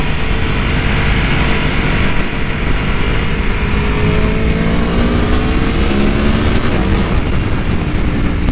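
An Aprilia Tuono V4 1100 Factory motorcycle is ridden at speed, its engine droning loud and steady with smooth pitch rises as it accelerates, under heavy rushing wind.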